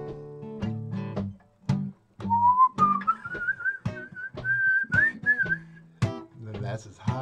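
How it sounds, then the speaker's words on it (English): A group of people whistles a steady, wavering melody line at a performance, rising and holding pitch for several seconds while a piano or guitar plays short chords around it. "Everybody whistle."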